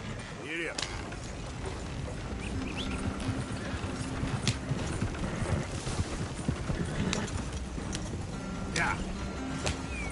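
A horse's hooves clip-clop in Red Dead Redemption 2 as the rider urges it on, a continuous rhythmic patter with a few sharp clanks, mixed under game ambience and a voice.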